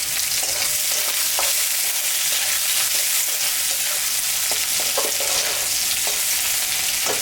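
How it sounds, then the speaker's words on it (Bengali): Chopped onion fries in hot oil with dried red chilli and cumin seeds, giving a loud, continuous crackling sizzle broken by occasional scraping stirs. "পেঁয়াজটা ভাজা ভাজা হয়ে গেছে"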